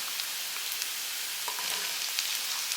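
Chopped bottle gourd sizzles steadily in a hot pan, a constant crackling hiss with occasional soft stirring scrapes.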